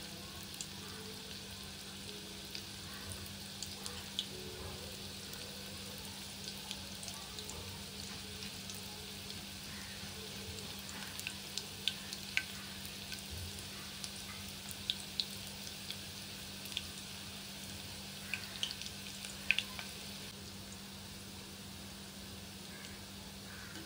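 Soybeans fry in hot oil in a pan, a faint, steady low sizzle with scattered soft pops and crackles throughout, no talking.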